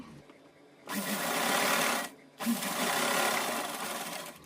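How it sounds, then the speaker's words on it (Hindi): A sewing machine stitching a small cotton dress for a Kanha deity figure, running in two loud, close bursts with a brief pause between them. "नीचे सिलाई लगा लेंगे।"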